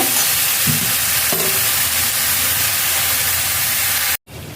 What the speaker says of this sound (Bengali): এটাকে ভালো করে ভেজে নিচ্ছি